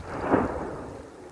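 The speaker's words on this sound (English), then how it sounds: "since the rain started, it makes these loud bangs" A single deep explosive bang from a volcanic vent on La Palma as rain hits hot lava, a rumbling low boom that swells and slowly fades.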